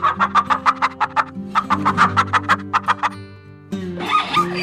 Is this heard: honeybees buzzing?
no